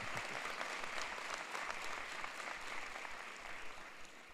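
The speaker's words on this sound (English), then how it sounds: "I want you to get them more applause" A crowd at a ceremony applauds with sustained, faint clapping from many hands that starts fuller and gradually thins toward the end.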